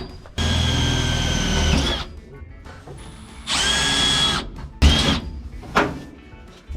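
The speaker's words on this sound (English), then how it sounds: "Gonna need a quarter 20 drill bit, Sean, on a drill. I drilled through the valve cover" A power drill with a quarter-twenty bit bores through an engine valve cover in three loud whirring bursts, the first two long and steady, the last short, with brief quiet gaps between.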